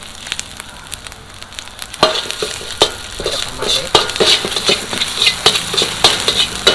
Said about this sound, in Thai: เราจะผัดพริกแกงจนไน้กลิ่นหอมครับ